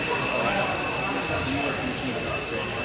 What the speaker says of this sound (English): He's flying in a circle backwards with this helicopter.